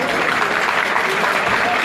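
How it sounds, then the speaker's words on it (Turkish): Dense, loud audience applause at a wedding-hall gathering, sustained clapping from a large crowd without pause. "Alkışın sesini duydun."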